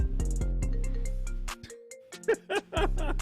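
A music remix plays as a phone ringtone, a steady rhythmic loop with repeating chime-like notes that breaks off midway, then people talk and laugh before the tune resumes.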